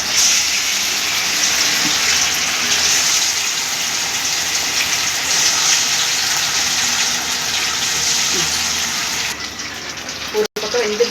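Chicken lollipop pieces sizzle and crackle in hot gingelly oil, a loud, steady broadband hiss that holds for about nine seconds, then thins out as the frying quiets.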